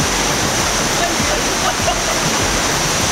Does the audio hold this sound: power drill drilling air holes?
no